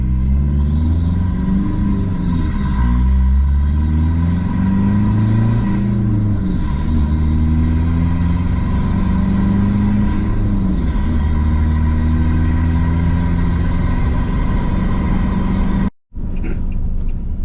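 A Nissan Navara D40 fitted with a snorkel and airbox drives along, its engine droning loudly with rising and falling tones as it revs and shifts, until a brief cut near the end.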